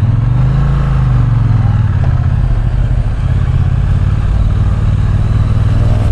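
A Triumph T120 motorcycle on a test ride gives a loud, steady low engine drone with constant road and wind rumble close to the rider, and no talking.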